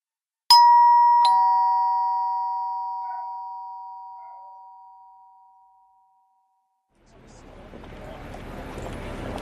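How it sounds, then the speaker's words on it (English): A surgery doorbell is rung twice in quick succession, bright chiming tones that ring out and slowly fade, followed by a stretch of near silence before faint background noise rises. "he raised his finger to push the bell of the surgery"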